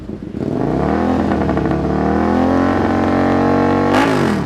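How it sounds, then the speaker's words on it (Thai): A 2017 Suzuki Gladius two-cylinder motorcycle engine is revved up close and loud. It climbs from idle into a sustained high roar, then gives a sharp blip near the end, with no voices. "จะมาฟังเสียงเครื่องยนต์ขนาด 2สูบ6 1 0 c จากซูซูกิกันครับผม"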